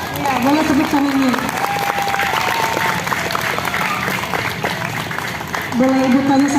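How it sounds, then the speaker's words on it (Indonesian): A class of fifth-grade children claps after a classmate's literacy presentation, a dense, loud burst of applause sustained for several seconds, with children's voices and cheering mixed in. "Ya, boleh tepuk tangannya."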